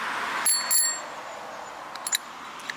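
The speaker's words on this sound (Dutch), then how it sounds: "Kijk, nu belt hij wel weer." A bicycle bell, opened up to show its inner mechanism, rings with two bright metallic dings early, then a few quicker, fainter rings later over a faint background hiss.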